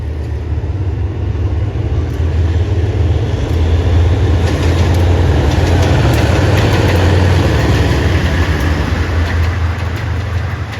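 A Thai diesel train locomotive idles with a steady, low rumble and faint metallic ticks, continuous and unchanging throughout.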